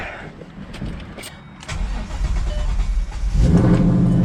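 A car engine running on E85 fuel cranks and catches, then settles into a loud, rumbling idle that grows stronger toward the end.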